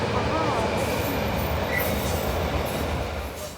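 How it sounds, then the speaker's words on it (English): Locomotive-hauled trains rolling past at a Polish railway station, a steady broadband rumble of wheels and cars close by, easing slightly toward the end. "you saw those locos going past with the nice trains on"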